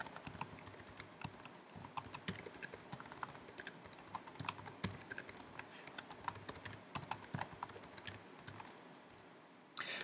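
Steady, fast typing of HTML code on a computer keyboard, close by, dense clicking keystrokes with brief pauses, no voices.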